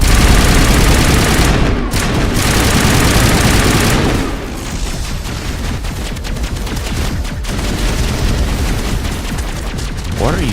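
Rapid bursts of gunfire from the video game Mass Effect fill the scene, loud and dense at first, then continuing as a busier volley of repeated shots with intermittent booms and some speech mixed in.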